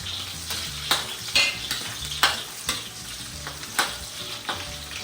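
Eggplant sautéing in a pan with garlic and onion gives a steady close sizzle, punctuated by sharp scrapes and clinks of a utensil stirring against the pan roughly every half second.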